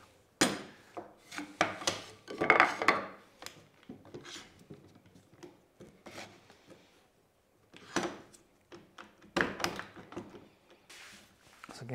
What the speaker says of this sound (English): Get your chisel nice and perpendicular to your work